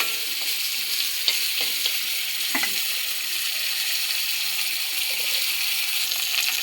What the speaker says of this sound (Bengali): ডালের বড়ি, কিনে এনেছিল, সেটা একটু ভালো করে ভেজে নেব।